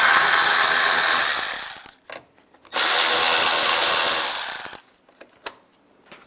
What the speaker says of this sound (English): use a T20 socket. Take those out.